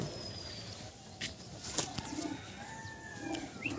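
Racer pigeons in a loft give soft, low cooing in a few short bursts, faint and somewhat distant, with light rustling and occasional flapping.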